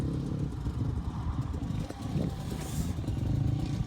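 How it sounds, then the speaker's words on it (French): A Honda CRF 450 dirt bike engine being run in at a beach, a continuous close rumbling idle with slight rises in revs and some clattering, heard on its own. "je suis en train de rôder la 450 CRF"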